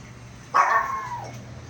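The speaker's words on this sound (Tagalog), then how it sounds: "Ba't ka kumakahol doon?" A single short yelp from a small dog, sudden and fairly close, fading quickly into quiet.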